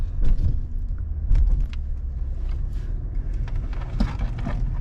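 Car interior while driving, low engine and road rumble with scattered clicks and knocks from the cabin, fairly loud and continuous, no speech.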